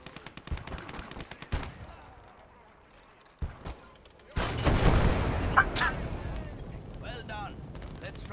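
Gunfire in the World War II strategy game Gates of Hell: Ostfront, Finland campaign: scattered sharp shots early, then a loud sustained burst of rapid fire and explosions in the second half.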